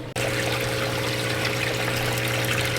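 Water rushes steadily through a hose draining a murky green pool, a constant gushing flow with a low hum underneath, starting abruptly and continuing without pause.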